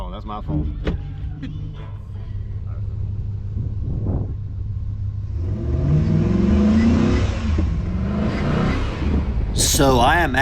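Chevy Silverado truck engine running steadily with a low rumble, then revving and swelling louder midway as the truck pulls off, with people talking over it inside the cab.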